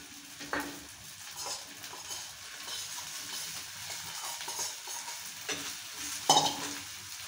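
Sabudana sago pearls are stirred and fried in a pan, giving a continuous close sizzle broken by intermittent spoon-on-pan scrapes and a few sharper clinks toward the end, with no voices.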